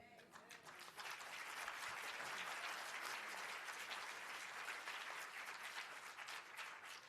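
Audience applause after a talk, thick continuous clapping that swells after the first second and holds steady, heard quietly from a distance.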